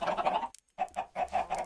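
Chickens cluck in a video game in short, close bursts: one run of clucks, a brief silence, then several more quick clucks, with no talk over them.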